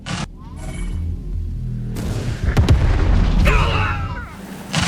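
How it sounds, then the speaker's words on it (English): Airstrike explosions rumble through a Tempest Rising battle, a sharp blast at about two seconds followed by layered booms and crackling debris, loud and close, with a radio voice talking over them. "Warning. Enemy airstrike incoming. Incoming airstrike."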